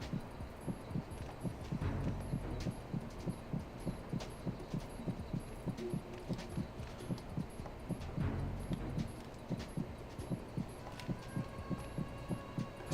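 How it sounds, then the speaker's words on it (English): Regular, evenly spaced footsteps in Metal Gear Solid 2, soft repeated thuds continuing over a low game ambience with no talk. "Still hear lots of footsteps."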